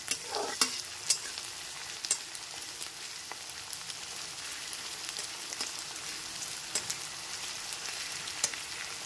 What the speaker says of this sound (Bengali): গ্যাসের ফ্লেমটা লো টু মিডিয়ামে রেখে একটু সময় নিয়ে পেঁয়াজগুলোকে লাল করে